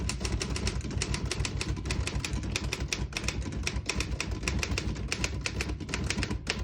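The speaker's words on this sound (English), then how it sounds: "I'll type a sentence on the next line." Rapid typing on a 1946 Royal KMM portable typewriter, a steady run of sharp mechanical key strikes close up with a continuous clattering rhythm and no voices.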